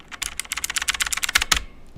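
Rapid typing on a computer keyboard, close and crisp, with a quick run of evenly spaced key clicks that trails off into quiet.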